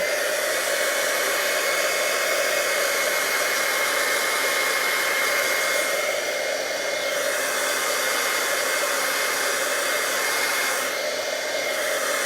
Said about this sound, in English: This is a little damp, so I'm going to dry it just a little bit more.